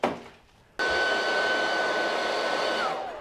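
A click, then an old hair dryer with a smoking cord switches on and blows with a steady, loud whir that holds for several seconds before easing slightly.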